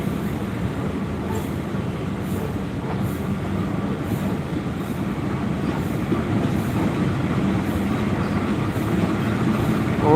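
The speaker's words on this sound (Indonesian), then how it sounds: "Argo Wilis melintas di JPO Stasiun Bandung" Argo Wilis passenger train rolling past Bandung station, heard from a footbridge above as a steady loud rumble with regular clacking of wheels over rail joints, growing slightly louder over ten seconds.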